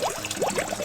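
Water pours into a plastic toy in short splashy bursts, a close trickle and gurgle lasting under a second.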